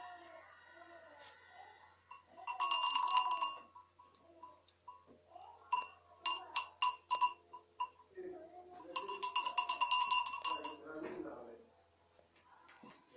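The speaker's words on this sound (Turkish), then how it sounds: "Koyunlarına takılan çan." Bright metallic clanking of a sheep bell in a couple of shaken bursts, close up, with people talking and exclaiming around it.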